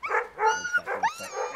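Alaskan Husky sled dogs at a musher's yard barking and yipping in quick overlapping bursts, close and loud, with some whining cries mixed between the barks.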